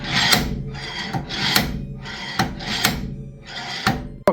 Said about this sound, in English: start hammering